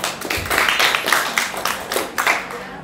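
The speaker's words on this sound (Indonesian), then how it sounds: "tepuk tangan untuk temannya" Classmates in a school classroom clap together for a fellow student, a dense, steady patter of many hands at close range that runs for about three seconds with slight swells.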